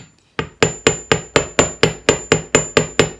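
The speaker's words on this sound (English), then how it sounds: "But the more you hammer it, the harder you're going to make the needle." A metal needle hammered by hand for a medieval pin-making project, with about a dozen sharp, evenly spaced ringing strikes, loud and close, with no talking.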